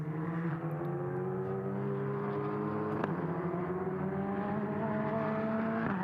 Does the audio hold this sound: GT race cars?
yes